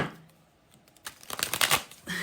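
Tarot cards are shuffled close up in a quick burst of crisp riffling and flicking after a short quiet pause, ending with a softer settling rustle.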